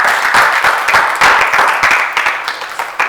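An audience claps after a talk on case studies, a dense steady applause of many hands, loud and close throughout with individual claps standing out, no voices over it.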